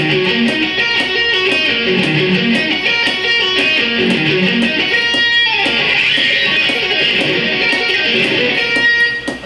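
Loud, bright electric guitar runs through fast, evenly spaced arpeggio notes in triplets over a steady metronome click, sustained and dense throughout.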